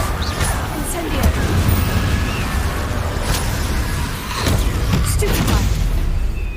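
Incendio fire spell in Hogwarts Legacy erupts in a loud, continuous fiery rumble with crackling bursts and booms spread throughout, dense and close amid combat noise.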